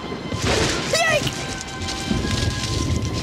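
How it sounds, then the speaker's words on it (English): Cartoon thunderstorm in a Halloween Winnie the Pooh scene: steady rain hiss fills the whole stretch with a low rumble of thunder underneath, while a character's sliding vocal exclamation cuts in near the start. "Ooh, a storm and good storm."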